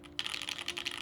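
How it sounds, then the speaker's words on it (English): Typing on a loud long-pole mechanical TKL keyboard: a fast, steady run of close, crisp keystrokes starting after a brief pause, with no voices. "this is the only long pole keyboard I own currently built."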